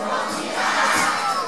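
A large crowd at a town festival in Kispest shouts and chants together, a dense, continuous roar of many voices with a few higher children's cries mixed in, loud and close throughout.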